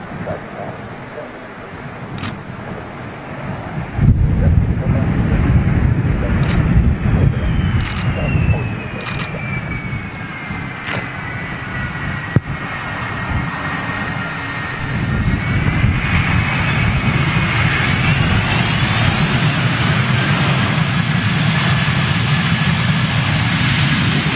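A Delta jet passes over an Amsterdam airport, its engine roar swelling into a loud, sustained rumble with a whine that drifts in pitch, buffeted by wind noise over roughly twenty seconds.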